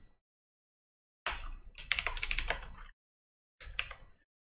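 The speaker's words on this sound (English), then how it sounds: "we just type in the phrase" Quick bursts of typing on a computer keyboard as a search phrase is entered, close and clear, a rapid flurry of key clicks followed by a pause and a short second burst, with no talking.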